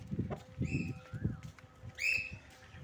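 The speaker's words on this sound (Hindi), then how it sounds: "मैंने कबूतर रखे हुए हैं" Pigeons in a coop make soft, low cooing and rustling, with a few sharp chirps and whistled calls rising above.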